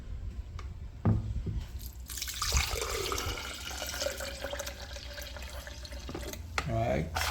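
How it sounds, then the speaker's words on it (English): Coconut water splashes and pours into a jug in a steady, continuous liquid rush lasting several seconds, with a few clinks and handling noises at the start and end. "So we're going to put some coconut water first"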